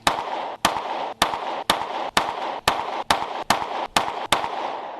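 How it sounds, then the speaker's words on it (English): Ten sharp gunshots from a Sig Sauer P365 9mm pistol fired at a target 25 yards away on a shooting range, spaced in a steady, deliberate rhythm, loud and close with brief ringing decay. "So let's shoot for accuracy at 25."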